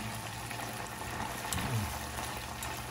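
Crispy rock shrimp deep-frying in hot oil, a steady dense bubbling sizzle with a slight swell in the middle, close and alone with no talk.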